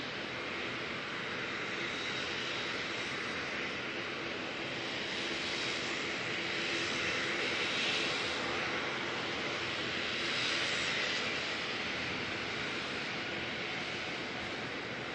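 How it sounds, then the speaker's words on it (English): A steady, loud roar from an ATR turboprop airliner departing at night at Auckland Airport, holding constant engine drone throughout with a slight swell midway and no voices. "there's that last ATR departure"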